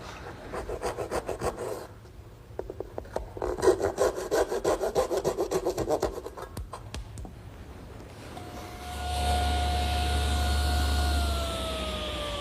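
A handsaw cutting tenon cheeks in wood, with steady rhythmic back-and-forth strokes in two bursts, close and fairly loud, followed by a whining powered-tool hum near the end.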